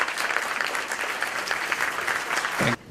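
Applause for Professor Yunus at an Alabama statewide social entrepreneurship conference: a dense, steady crowd of clapping hands lasting almost three seconds, then cutting off abruptly.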